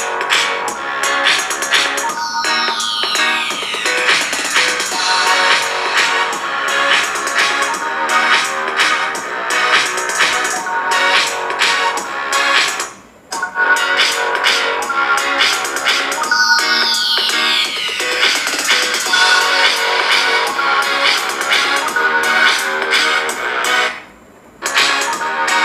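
Music playing through the loudspeaker of a Poco F3 GT phone, bright and continuous with synth-like tones and sweeping glides, dropping out briefly twice before resuming, with no voices.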